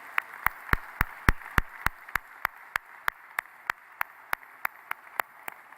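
Audience at the 2018 SOAR Summit in Eastern Kentucky clapping in unison for government officials on stage; about twenty evenly spaced, sharp claps in a steady rhythm that eases slightly, fairly faint in a quiet room, with no talk.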